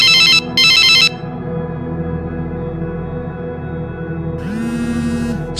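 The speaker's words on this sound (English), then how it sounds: "Your phone never stops ringing." A mobile phone ringtone sounds in two short bright bursts, then gives way to a steady hum. Near the end, a rising electronic tone starts the ring again, loud and close, with no talking.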